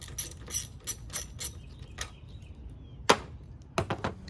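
A ratchet loosens a 10 mm bolt under a BMW X3 35i F25 during a downpipe install, giving quiet irregular clicks and metallic taps with short pauses, close and faint.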